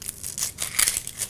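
Dry onion skins peeled away with a sharp knife, giving brief crinkly tearing rustles close up, with a couple of brighter crackling bursts over a moment.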